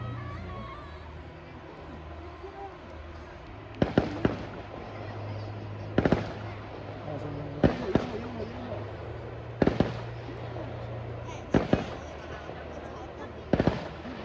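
A New Year fireworks show at Janfusun Fancyworld: six loud, sharp bursts arrive roughly every two seconds over a low background rumble, with people talking in between.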